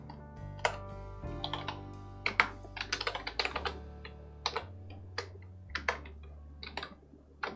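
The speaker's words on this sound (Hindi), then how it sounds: "तो मैं यहाँ पर क्लिक करके टाइप करना शुरू करूंगी।" Typing on a computer keyboard, with irregular bursts of close, crisp key clicks and taps in quick runs broken by short pauses, with no voices.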